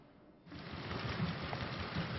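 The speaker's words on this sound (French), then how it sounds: "Sur les hauts plateaux éthiopiens, la pluie est revenue" Rain falling on the Ethiopian highlands, a soft quiet start that swells into a steady, dense patter with faint low rumbles underneath.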